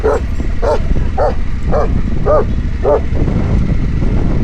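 A dog barks six times in a steady, evenly spaced series, close and loud over a constant rumbling background.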